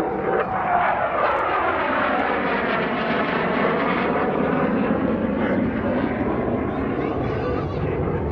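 An F-16CJ Fighting Falcon fighter jet flies an airshow demonstration at the 2017 Rhode Island Air National Guard Open House. Its loud, continuous roar rushes past, with a slowly shifting whine running through it for the whole stretch.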